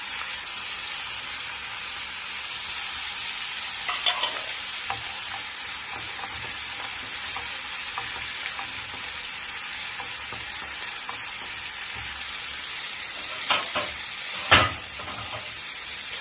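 Colourful bell peppers sizzle steadily in a pan of bulgur shakshuka and are stirred with occasional scraping knocks of a utensil, a continuous frying hiss with no talk.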